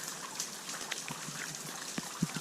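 Rain falling outdoors at a garden, a soft steady patter with a few louder close drops landing on a surface, no voices.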